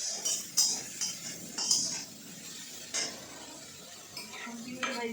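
Vegetables fry in a pan while a spatula stirs them, giving intermittent scraping clinks over a soft background sizzle, close by and with no talk.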